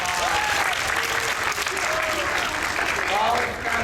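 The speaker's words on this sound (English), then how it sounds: "Give Rye a round of applause." Audience applause at an anime convention acting lesson, a steady dense wash of clapping from a crowd filling the room, with scattered voices and cheers rising over it.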